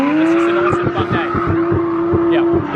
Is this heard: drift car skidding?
yes